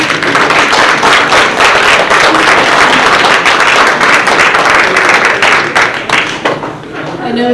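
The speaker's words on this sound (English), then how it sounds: "everyone appreciates them should stand and give them a big round of applause" A standing audience applauds county commissioners at a community meeting in Tenino, with dense, loud clapping that runs steadily and starts to thin near the end.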